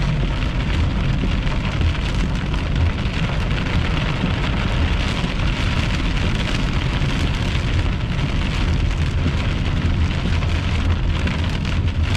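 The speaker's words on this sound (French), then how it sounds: "Pas mal de la pluie." Heavy rain pounds down steadily during a storm chase on a June 2022 day, a dense, continuous roar of drops drumming on a surface close by, with no voices.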